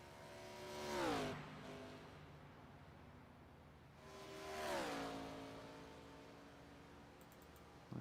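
Race cars in a Dodge Gen 4 sim race at Chicago, two engine passes swelling close and loud then dropping in pitch as they sweep past, with a steady engine drone between them.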